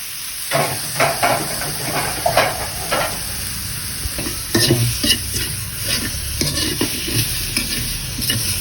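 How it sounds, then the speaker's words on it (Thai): Pork stir-fried in a pot for a Lao bamboo shoot curry sizzles steadily, with a utensil scraping and stirring in irregular strokes, close up and without talk. "คั่วไปจนมันหอมหมดเลยทุกคน"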